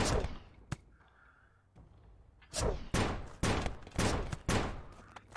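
Gunfire in the video game Shadow of Loot Box: a single sharp shot, a quiet lull, then a rapid run of five or six loud, close blasts with short decaying tails.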